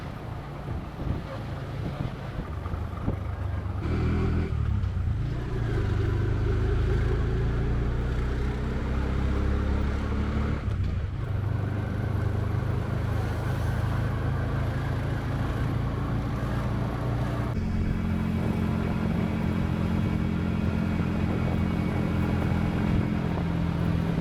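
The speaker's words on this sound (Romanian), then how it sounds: "Tuk-tuk-ul ne-a dus până la departamentul de imigrări" A tuk-tuk ride in Sri Lanka, with the engine droning steadily and a low rumble underneath, while wind buffets the microphone the whole way.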